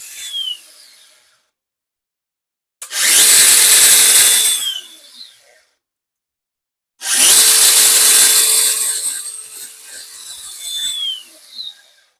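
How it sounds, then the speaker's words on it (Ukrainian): A DeWALT power tool driven by a homemade Molicel 21700 battery pack whirs loudly in two bursts of a few seconds each, separated by silence, with no talking. "Тестуємо на інструменті DeVolt."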